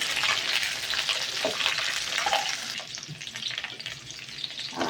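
Brinjal sautéed in a pan for a tamarind curry, crackling oil sizzle up close with intermittent stirring scrapes, slightly quieter in the second half.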